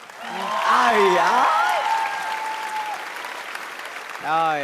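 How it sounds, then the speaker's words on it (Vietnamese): Studio audience applauding at a televised Vietnamese dance competition, a full crowd clapping that swells quickly and holds steady, with a voice speaking over it and another voice cutting in at the end. "một tràng vỗ tay nữa cho Xuân Lộc và Hải Anh thưa quý vị"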